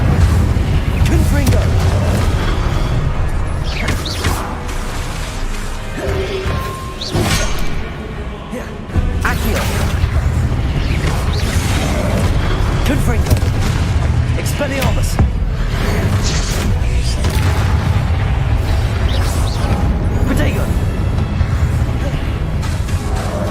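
Spell blasts from Confringo and Incendio in the Hogwarts Legacy video game boom and crash repeatedly over a dense, loud game mix with whooshes, a steady barrage of impacts lasting throughout.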